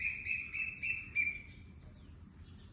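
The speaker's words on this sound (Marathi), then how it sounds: "हा पक्ष्यांचा किलबिलाट फक्त झाडं असेल तरच ऐकू येतो" Birds chirp in trees on a morning, giving a quick run of bright, repeated calls over a soft, low background hum, moderately close for a few seconds.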